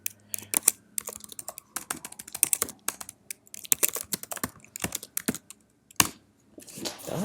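Rapid irregular clicks of fingers typing on a computer keyboard, close and crisp, bursts of keystrokes with short pauses between, no voices.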